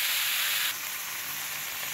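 Mixed vegetables for a winter vegetable dal with moong and masoor lentils fry in a pan, a loud, close, steady hiss and sizzle that softens abruptly partway through, with no talk.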